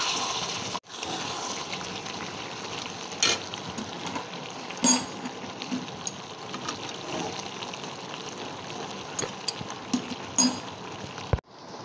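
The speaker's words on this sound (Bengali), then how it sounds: "আমি একটু ভালো করে নাড়িয়ে নিলাম" Pointed gourd and potatoes with spices are stirred in a pan, a steady low frying sizzle with scattered scrapes and clinks of the spoon against the metal, close and alone without talking.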